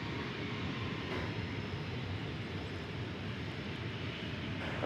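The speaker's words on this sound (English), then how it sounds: "There you see a Delta Flight 1276. It's a Airbus" Delta Airbus A320-200 jet engines at takeoff from DFW Airport, a steady, broad roar heard from a distance, continuous and faint without distinct peaks.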